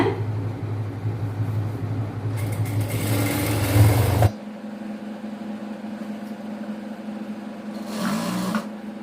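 A sewing machine stitches piping onto a chudidhar top, running in steady whirring bursts. A loud run gives way to a quieter stretch, then a brief second burst near the end, with no talking.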